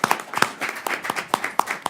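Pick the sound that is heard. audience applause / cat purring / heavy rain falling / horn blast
audience applause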